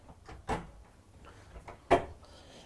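Soft-close pull-out drawers under an RV bathroom vanity in a Newmar Dutch Star 4369 motorhome slide and settle, with two distinct soft thuds about a second and a half apart against quiet background.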